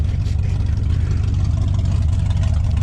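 A truck with an axle dump exhaust rumbles loudly with deep low-end throb, a steady idle-like growl with little variation and no talk over it.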